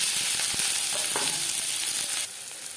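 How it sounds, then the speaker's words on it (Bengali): Chopped onion sizzles loudly in hot refined oil, a dense, steady crackling hiss with a few soft utensil knocks, easing slightly near the end. "রিফাইন্ড অয়েল গরম হয়ে গেছে এবার দিয়ে দেবো পেঁয়াজ কুচি"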